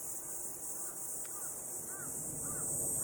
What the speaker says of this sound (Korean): 청계산의 까마귀 소리가 들려오고 있습니다